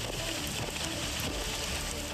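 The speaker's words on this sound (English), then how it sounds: "Relentless rain." Heavy hurricane rain pours in a loud, dense, unbroken roar that holds steady throughout, with no pauses or distinct drops standing out.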